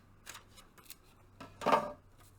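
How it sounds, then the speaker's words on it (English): Scissors snipping through a paper hamburger cutout, a few light crisp snips ending in one louder cut, close and quiet with no talking. "And we're just going to cut it right in half."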